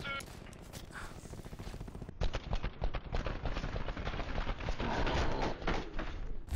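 Rapid gunfire from Call of Duty: Black Ops 4 multiplayer, dense bursts of shots crackling continuously over background game sounds, growing louder and busier after the first two seconds, with a voice talking faintly underneath.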